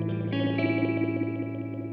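Electric guitar run through a FLAMMA modulation pedal, a bubbly warbling wobble on sustained chords with a wet, chorused shimmer, steady and fairly loud for about two seconds with no voices.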